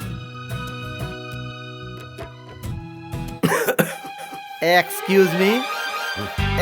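Someone coughs and clears their throat in a few harsh bursts over a music soundtrack, in a Hindi-dubbed action film scene.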